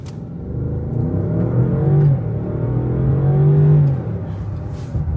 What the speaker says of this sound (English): that's plenty of power and torque from that twin-turbo V8